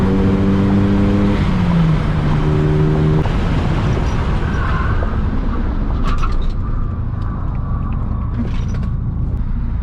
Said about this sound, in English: I'm just gonna do an 80 to 0 mile an hour stop